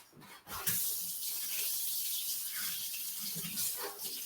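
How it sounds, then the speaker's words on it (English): Hot water runs steadily from a kitchen tap in a continuous rushing stream, starting after a brief pause and flowing close and even to the end. "I want pretty darn hot water out of this tap."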